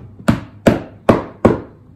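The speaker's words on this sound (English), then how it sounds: "Now I'm gonna go re-hammer everything down so it's super tight." Four evenly spaced hammer blows strike fabric being tacked down on an upcycled wooden chair, each a sharp close knock with a short ringing tail.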